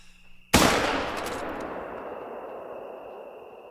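A single loud .270 rifle shot fired at a fallow buck in the hunting game theHunter: Call of the Wild, cracking sharply and then trailing off in a long, fading echo.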